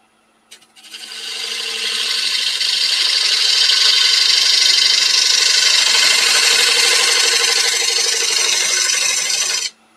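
A bowl gouge makes a push cut across a turning wooden bowl on a lathe, a loud, steady hissing scrape that holds for about nine seconds before stopping abruptly, close and alone.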